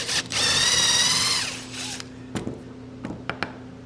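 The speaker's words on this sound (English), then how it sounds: "It's time to put a little countersink hole in these. This is an Amana Tool 55227 countersink bit." A drill spins an Amana Tool 55227 countersink bit into a wooden base for a small Christmas tree, a loud whirring burst for about two seconds that winds down, followed by a few light knocks and taps.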